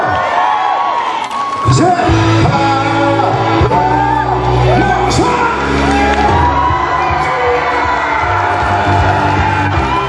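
A crowd at a Pyeongtaek gathering shouts, whoops and cheers wildly, a loud sustained roar of many voices with rising yells and bursts of excitement lasting the whole stretch.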